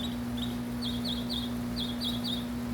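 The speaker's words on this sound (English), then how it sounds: "Hear the birds, guys?" Small birds chirp in quick repeated bursts of two or three notes, moderately close, over a steady low electrical hum.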